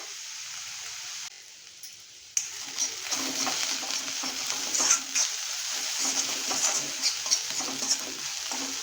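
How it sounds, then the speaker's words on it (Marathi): Onion is sautéed in a pan while making methi bhaji, with a steady close sizzle and repeated scraping strokes of stirring. The sizzle is quieter at first and then swells louder. "कांद्याला हलकासा ला हलकासा गुलाबी करत कलचा परतला पाहिजे आपल्याला"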